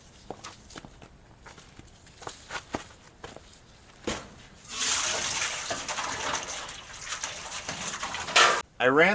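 Water pours steadily into a pair of solar hot water tanks, a rushing gush that begins midway after scattered footsteps and knocks, close by and moderately loud.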